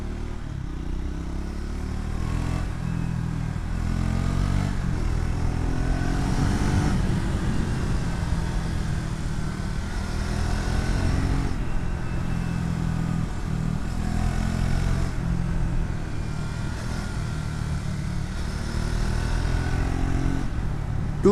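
A Triumph Scrambler X400 motorcycle engine runs continuously while being ridden, a steady mid-pitched drone that rises and falls with throttle, loud and close with road and wind noise.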